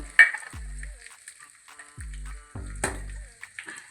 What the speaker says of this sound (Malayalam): വേപ്പില ഇഞ്ചി എല്ലാം ഇട്ട് കൊടുക്കുന്നുണ്ട്